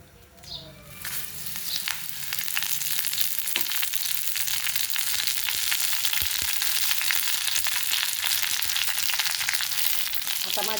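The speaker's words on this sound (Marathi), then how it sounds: "छानपैकी असं कुरकुरीत पानं होईपर्यंत आपल्याला हा कढीपत्ता भाजून घ्यायचा आहे" Curry leaves fry in a little oil in a small kadhai until crisp, for curry leaf chutney: a quiet start quickly swells into loud, steady, crackling sizzle that holds throughout, with no talking.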